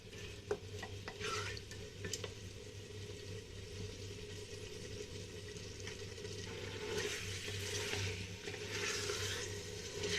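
Mutton being stirred in a large pot over high heat, a faint scraping and sizzling churn with intermittent clinks of a spoon against the vessel, continuous and low in level.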